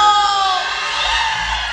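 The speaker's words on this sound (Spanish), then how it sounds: "¡El grito de los borrachos!" A dense, drunken crowd yelling and whooping together at a live band performance in San Miguel Nuevo Chilchotla, Oaxaca, a rowdy wall of voices continuing without pause.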